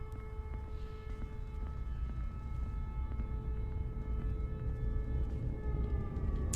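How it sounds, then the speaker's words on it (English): A war siren sounds in the video game Becrowned, a sustained wailing tone held steadily over a low rumbling ambient background, fairly faint and continuous. "We got war sirens."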